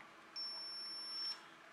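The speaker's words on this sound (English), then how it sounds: "And we get a beep that it's high." A logic probe set to CMOS mode and touched to a positive voltage gives one clean, high-pitched electronic beep lasting about a second against a faint background hiss, with no voices.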